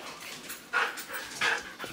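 Dogs panting after being brought back from a walk indoors, quick breathy bursts with two louder close pants standing out over a steady low huff, no talk.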